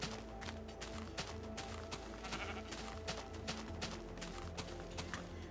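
Brown sheep bleating in Minecraft, short bleats over a busy game soundscape with footsteps and clip-clop sounds, fairly faint overall.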